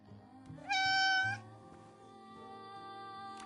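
A cat in the video game Infinity Nikki gives one loud, clear, drawn-out meow over soft game music, followed by sustained musical tones.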